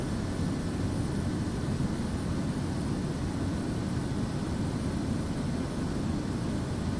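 Steady, broadband engine roar from an Airbus A320 airliner in Microsoft Flight Simulator 2024, a constant droning rumble with hiss that holds evenly throughout without breaks, with no voices.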